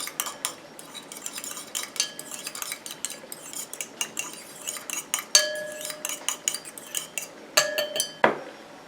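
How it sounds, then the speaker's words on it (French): A utensil stirs urea into a water phase in a small vessel, making rapid rhythmic clinks and taps against the container with a few louder knocks near the end. "Je prends ma phase aqueuse à laquelle je viens rajouter mon urée et je mélange jusqu'à ce qu'elle soit dissoute."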